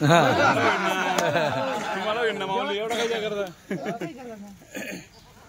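Kathiawadi goats bleating repeatedly at a livestock sale, their calls overlapping and fairly close amid constant loud chatter and laughter from people nearby.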